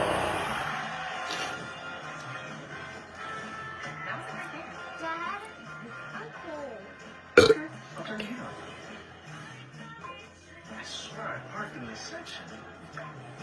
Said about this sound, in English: I don't like burping like that.